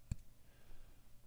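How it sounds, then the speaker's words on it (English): A single tap lands on a Samson UB1 puck microphone, one sharp thump near the start followed by a faint, quiet room tone. "So this is tapping on the mic"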